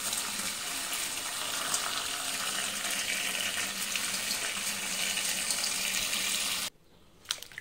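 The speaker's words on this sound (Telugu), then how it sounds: "ఇప్పుడు ఈ బచ్చలాకును కూడా వాటర్తో క్లీన్ చేసుకోవాలి." Tap water runs steadily as bachali leaves are washed under it, a close, continuous splashing stream that stops abruptly near the end, leaving a few faint drips and handling sounds.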